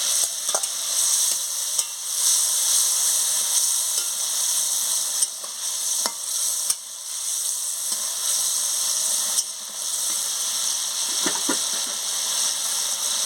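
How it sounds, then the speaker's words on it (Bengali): Pumpkin being stir-fried with fried spices in a pan for a sour fish dish, a steady close sizzle with occasional scrapes and knocks of a spatula against the pan. "কুমড়ো দিয়ে ভালো করে মশলার সঙ্গে কষিয়ে নিচ্ছি"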